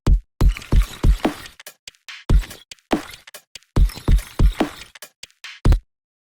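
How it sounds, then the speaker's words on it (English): Drum groove of kick, ghost kick and snare with a percussion buzz triggered by the ghost kick, giving fuller, noisier hits that ring slightly longer in a dense syncopated pattern, loud and close. "once we trigger the percussion buzz based on the ghost kick, you get a much fuller sound"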